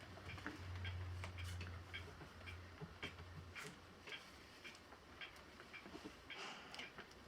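Household clock ticking faintly and steadily in a quiet room, the even rhythm of small ticks running alone with low background hiss.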